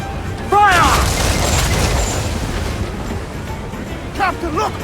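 Ship cannon fire in a naval battle from Assassin's Creed IV: Black Flag, a loud booming blast over rolling surf and wind, with voices shouting orders around it.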